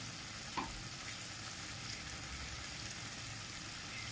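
Food stirred in hot oil with cashew paste in a pan for a Bengali fish curry, giving a steady low sizzle throughout, with one faint clink near the start and no voices.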